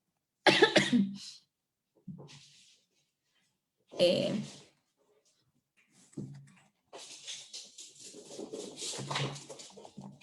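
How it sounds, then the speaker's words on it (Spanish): A person with a cough coughs in a few harsh bursts, with quiet pauses between them, before speech starts near the end. "Me van a disculpar un poquito porque estoy un poco con la tos"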